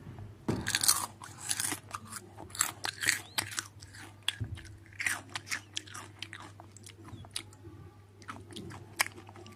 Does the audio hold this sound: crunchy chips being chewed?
yes